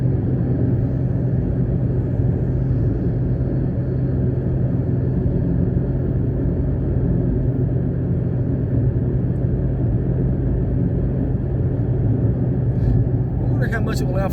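A Mitsubishi Mirage climbing a steep mountain road toward 8,000 feet, its engine and road rumble droning loud and steady from inside the cabin.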